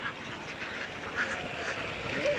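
Outdoors on a duck farm holding about 2000 egg-laying ducks, a crowd of ducks quacks in a dense, continuous chatter at moderate distance.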